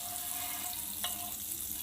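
Butter heats in a pan for a homemade pizza base, giving a soft, even sizzle with a single light clink partway through, close and quiet.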